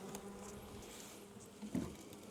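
Honey bees drone and buzz around a hanging swarm box, a steady hum with a few closer passes rising briefly near the end.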